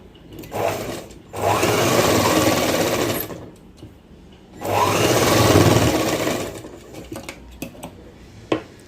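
Sewing machine stitching the shoulder seam of a baby's gown, two loud sustained runs of rapid motor-driven stitching separated by a short pause, with light handling clicks at the end.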